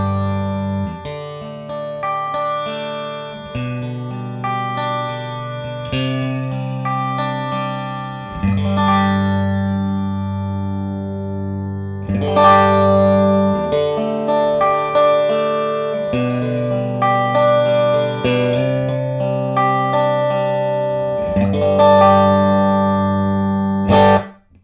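An overdriven electric guitar plays through a Matchless Chieftain amplifier with the mids backed off. Sustained distorted chords and riffs ring out at a steady loud level, with no voices.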